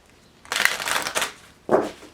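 A short burst of papery riffling, then a brief pause and a second quick flutter, as tarot cards are shuffled close by.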